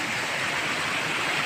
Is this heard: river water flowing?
yes